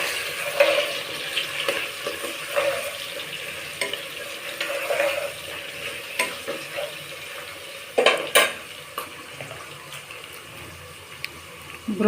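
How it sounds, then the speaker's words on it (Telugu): Broccoli frying in oil in a pan, heard as a soft continuous sizzle broken by clattering spatula scrapes and a few sharper metallic knocks against the pan, close and moderately loud. "బ్రోకలీ కూడా కొంచెం ఫ్రై చేద్దాం. నూనెలో ఫ్రై చేస్తే"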